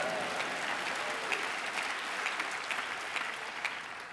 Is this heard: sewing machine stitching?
no